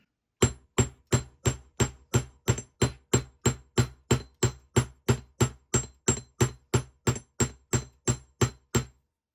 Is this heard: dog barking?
no